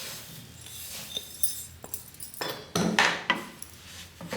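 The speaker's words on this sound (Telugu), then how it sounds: "మనం ముందుగా కొబ్బరి రవ్వలో కలిపి వేయించుకున్నాం కదా, ఆ రవ్వని మొత్తం ఇందులో వేసుకుందాం." Roasted coconut semolina tipped into a pot of jaggery syrup, heard as close metallic clinks and scrapes of a spoon against the pot with a few louder knocks.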